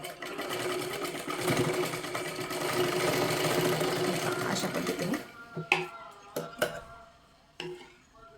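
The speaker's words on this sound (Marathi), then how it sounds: "परत एकदा आपल्याला एक शिलाई इथे व्यवस्थित मारून घ्यायची आहे" A sewing machine runs steadily for about five seconds, stitching joined blouse-piece fabric, a fast mechanical whir that then stops, followed by a few short clicks and bursts, with someone talking throughout.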